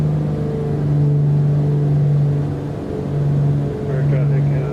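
A piston aircraft engine drones steadily inside the cockpit of a flight simulator, a loud low hum holding pitch with slight power changes, while a pilot speaks over it.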